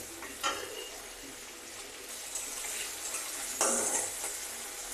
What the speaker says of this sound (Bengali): একটু ভাজা করে খাচ্ছি